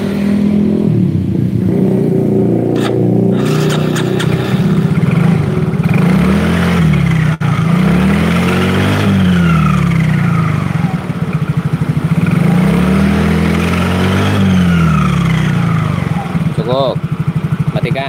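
A Yamaha Mio Soul scooter with a mysterious fault starts up and runs steadily close by, its engine hum rising and settling in waves, with someone talking over it at times.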